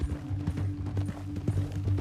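Horse hooves clip-clop at a steady walking rhythm in Red Dead Redemption 2, moderately quiet, with a low mechanical hum and rattling beneath and no voices.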